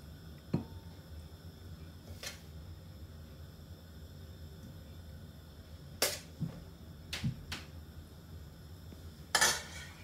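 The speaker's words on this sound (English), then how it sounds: "get a spoon of this lovely kedgeree, pop that into the bowl" A metal spoon serving kedgeree into a bowl gives a few sparse, sharp clinks and scrapes, spaced irregularly and fairly close against a quiet kitchen background.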